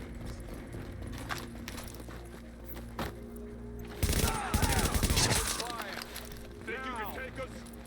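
Gunfire in the video game The Division rattles out in a dense burst mid-clip, with scattered shots before and after, mixed under ongoing voices talking over the action.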